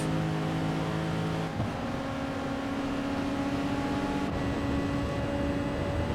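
A race car screams at high revs in Gran Turismo Sport at Monza, its loud, steady engine note stepping down in pitch at two gear changes and then climbing again.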